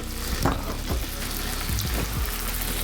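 Onions cooking in foaming butter, a close, steady sizzle with crackles and a few scraping stirs, fairly loud and without talk.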